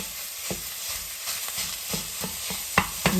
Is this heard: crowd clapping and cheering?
no